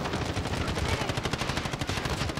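Gunfire in an online shooter video game, including sniper shots: a dense, rapid barrage of loud cracking shots that overlap continuously, close and sustained.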